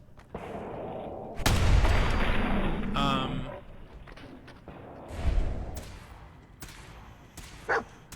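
Modded flaming shotgun blasts in Fallout 4, a few heavy booming shots with long rumbling tails spaced across the moment, alongside game effects and brief voice sounds.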